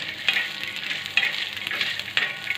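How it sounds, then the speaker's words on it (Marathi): Half an inch of ginger and coconut sautéing in a pan for a spicy drumstick curry produce a close, bright sizzle, with a few sharp stirring scrapes recurring about once a second. "जे अर्धा इंच आलं घेतलं ना ते पण आपल्याला त्यामध्ये टाकून मस्त परतून घ्यायचं आहे"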